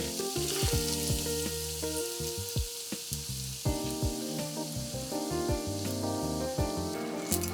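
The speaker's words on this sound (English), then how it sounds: "To make the inside rare, put it in oil preheated to high temperature of 180 degrees." A tuna cutlet deep-fries in oil heated to 180 degrees, giving a steady, loud bubbling sizzle throughout, with tonal background music playing underneath.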